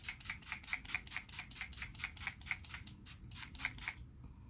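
Urban Decay All Nighter setting spray goes off in a quick, even string of about fifteen soft, hissy spritzes, close and faint.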